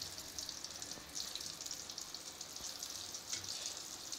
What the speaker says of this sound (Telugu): ఇక్కడ చూపిస్తున్న విధంగా అయితే మనం ఏదైతే కట్ చేసుకున్నామో ఆ బనానా చిప్స్ అయితే దీంట్లో అయితే వేసేసుకోవాలి.